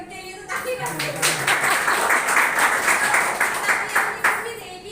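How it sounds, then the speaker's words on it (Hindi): An audience at a gathering claps together for a few seconds, a bright rattling patter rising and fading, with voices talking over it. "सर ने इतना अच्छा कॉम्प्लीमेंट करा है कि उनके लिए तो ताली बजाएं।"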